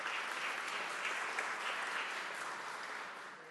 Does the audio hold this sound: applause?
yes